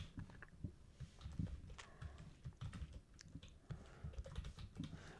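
Quick, irregular keystrokes on a computer keyboard fill the whole stretch, a steady close clatter of soft clicks typing out a to-do list, without any voice.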